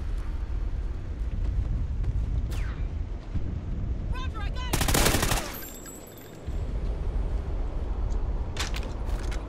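Video game gunfire rattles in dense bursts through walls, a loud fusillade with a sharp blast partway through, under ongoing talk from players.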